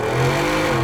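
Supercharged 2019 Roush F150 SC pickup truck, exhaust in off-road mode, revving hard under acceleration: a loud, steady engine roar filling the whole short moment with no pause.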